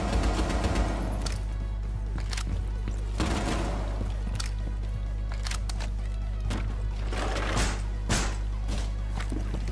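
Rapid pistol gunfire in the tactical shooter Rainbow Six Siege, sharp bursts of shots cracking over a steady low game drone, with a few clustered volleys spread across the stretch.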